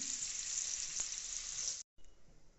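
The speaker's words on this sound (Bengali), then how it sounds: "আলুটাকে আস্তে আস্তে ভেজে নেব মোটামুটি আলুটা ভাজা হয়েই এসছে" Potatoes fry slowly in oil with a steady, close sizzling hiss. It breaks off briefly near the end and returns softer.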